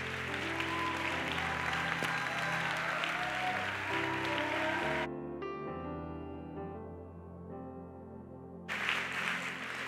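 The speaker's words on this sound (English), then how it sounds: "clap and thank God together." Church congregation clapping together after a closing prayer, a dense steady wash of applause that breaks off midway as keyboard music takes over, then the clapping swells back near the end.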